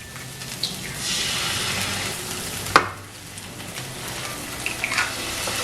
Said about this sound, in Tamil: இந்த 2 பெரிய முட்டையை இதில் அடிச்சு போடுவோம்.